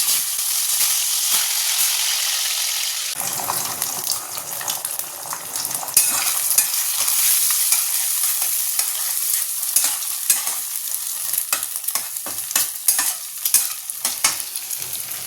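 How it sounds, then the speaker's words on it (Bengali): Fish pieces sizzle loudly in hot oil in a wok, a steady bright hiss that swells when the fish goes in, with scattered pops and crackles throughout and no talking. "কড়াই তেল গরম হয়ে গেছে, এবার মাছগুলো দিই"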